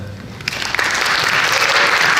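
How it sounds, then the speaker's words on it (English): A crowd at a fall closing and awards ceremony breaks into applause, starting with a few claps and quickly swelling into a dense, steady, loud roar of hands. "please have a round of applause for them"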